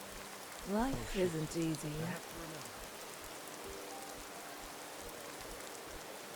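Steady rain falls in the video game Enderal, a soft, even hiss that carries on throughout, with a brief spoken line near the start.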